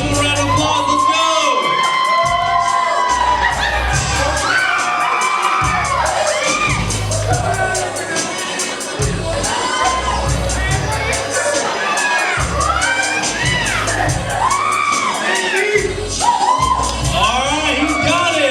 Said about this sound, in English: Cheer him on, ladies and gentlemen.